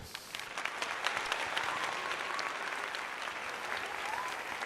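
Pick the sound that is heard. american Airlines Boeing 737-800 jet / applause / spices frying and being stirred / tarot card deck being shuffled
applause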